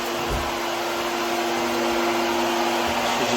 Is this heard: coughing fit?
no